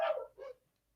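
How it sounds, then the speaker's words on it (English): Dogs indoors give two quick close barks in succession, the first longer and louder, the second shorter, followed by silence and a brief sharp onset at the end. "they're still barking"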